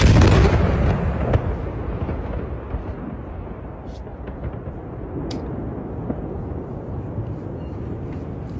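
A heavy, booming blast with a dense rumbling roar that slowly fades into sustained low noise, with a few faint sharp cracks further off.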